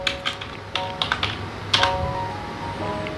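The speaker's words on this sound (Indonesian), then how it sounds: "kita ketik saja Jawa Barat" Keys clatter on a computer keyboard while a search word is entered in a Word or Excel find box, a quick irregular run of close, crisp taps with a short pause midway, no voices.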